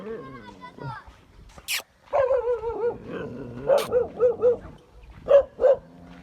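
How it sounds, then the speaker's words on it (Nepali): Hungry street dogs barking in the morning on a Sikkim street, several short barks in bursts mixed in with someone talking nearby. "बिचरा कुकुरहरू पनि बिहान भुकिरहेको छ बिचरा, खाना पनि नपाएर होला,"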